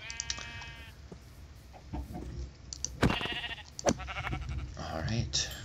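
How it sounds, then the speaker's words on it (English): Sheep bleating in Minecraft during survival play, several short bleats scattered across the moment, with chicken clucks mixed in and a player talking over the game sounds. "I'm pretty sure I heard sheep around here."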